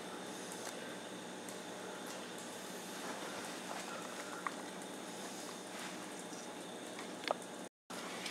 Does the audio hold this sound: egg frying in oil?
yes